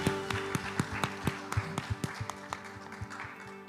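A congregation at a church service claps in a steady, quick rhythm, the sharp slaps fairly close and even in loudness throughout.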